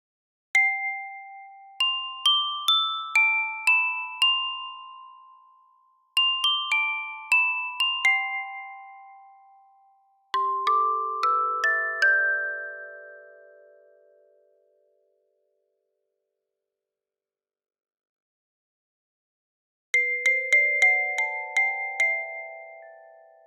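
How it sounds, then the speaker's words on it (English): Synthesized chime tones from an Objekt physical modeling synthesizer ring out in quick descending and ascending runs of clear, bell-like notes, each decaying smoothly, separated by pauses and a long silent gap. "Now the chime."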